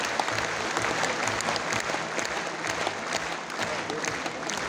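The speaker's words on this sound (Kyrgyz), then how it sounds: "Кол чаап койсоңуздар" Audience applause at a Mawlid an-Nabi evening award ceremony in Moscow, a steady, dense wash of many hands clapping that holds loud and even throughout without pause.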